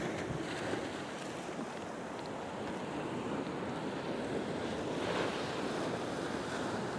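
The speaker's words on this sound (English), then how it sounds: "Just watching the waves" Ocean surf washes continuously against coastal rocks in winter, a broad steady roar of breaking water with wind buffeting the microphone, no voices over it.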